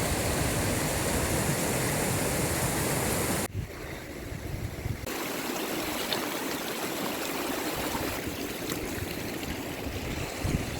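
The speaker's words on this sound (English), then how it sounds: "The front of this glacier gives birth to this creek, whose water goes into the river Sutlej." A glacier-fed creek rushes below the north face of Mount Kailash in Tibet, flowing toward the Sutlej river. A loud, continuous close roar of water dips briefly partway through, then resumes.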